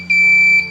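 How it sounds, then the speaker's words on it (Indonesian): A buzzer on an Arduino fingerprint door lock gives a single loud, steady electronic beep lasting about half a second, close and clear. "dia akan membunyikan buzzer, door lock pun tidak terbuka ya jika salah"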